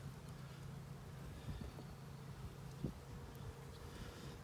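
Honey bees buzzing softly around an opened hive frame during an inspection, a low steady hum with faint clicks and handling noises close by.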